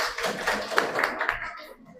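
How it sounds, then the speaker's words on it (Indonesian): A class group applauds together during a theatre lesson, a dense patter of hand claps lasting about a second and a half before fading out. "Oke, tepuk tangan dulu untuk kita semua."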